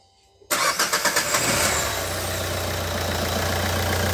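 A 2008–2013 Renault Kangoo 1.5 dCi diesel with the K9K engine, freshly repaired injectors, cranks with a quick series of rhythmic starter pulses after silence, catches, and settles into a steady, close diesel idle.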